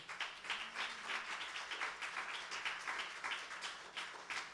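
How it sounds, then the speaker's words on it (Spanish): A church congregation applauds during a sermon, a steady wash of many hands clapping at moderate distance that keeps going without a break and carries no clear talk. "alguien debería entenderlo y darle un aplauso al Señor"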